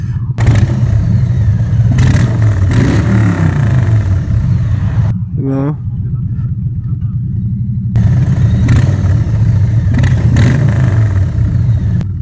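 A Harley-Davidson Road Glide Limited or Street Bob V-twin engine runs at a close, loud, steady idle with a brief throttle blip partway through and clattering mechanical noise, while someone talks over it.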